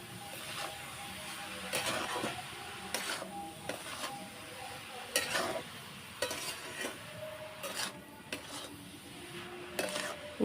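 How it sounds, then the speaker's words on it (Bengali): Coconut and sugar being stirred in a pan over a wood-fired clay stove for naru sweets: repeated scraping and clinking strokes of a spoon against the pan, close and moderately loud, with no talking. "ভালো করে নাড়াবো। চিনি আর নারকেলটা একসাথে ভালোভাবে মিশে যাবে।"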